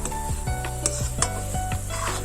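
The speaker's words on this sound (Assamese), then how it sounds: "এয়া নাৰিকল ভাজি আছোঁ, নাৰিকলৰ লস্কৰা বনাম।" A spatula scrapes and stirs grated coconut in a pan in repeated strokes over a soft sizzle, with occasional metallic clinks.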